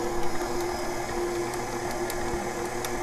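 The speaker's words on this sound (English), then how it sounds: "We're going to start off whisking it really slowly first." Chocolate buttercream frosting being whisked slowly by an electric mixer, a steady close whirring drone with a faint rhythmic scraping running unbroken throughout.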